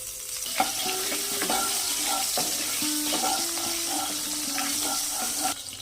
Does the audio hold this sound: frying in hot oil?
yes